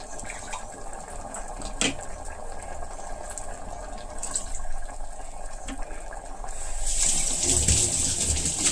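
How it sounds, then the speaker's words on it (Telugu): Water pours into a cooking pot for raw mango dal, running as a steady, moderate splashing that grows louder and brighter toward the end. "దీనిలోనే కొద్దిగా వాటర్ వేసేసి"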